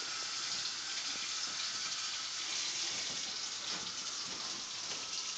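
Tap water runs steadily into a sink to rinse after a shave, a continuous close hiss and splash that stays even and unbroken throughout.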